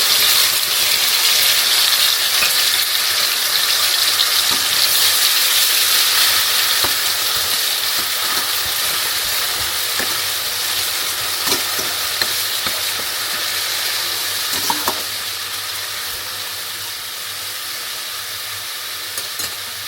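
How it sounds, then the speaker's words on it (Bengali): Ginger-garlic paste with cumin sizzling and frying steadily in a pan for chicken curry, a constant bright hiss that stays even throughout with a few faint clinks of stirring near the end. "আদা রসুনটা ভাজা হয়ে গেছে"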